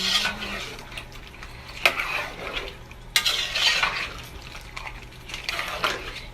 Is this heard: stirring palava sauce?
yes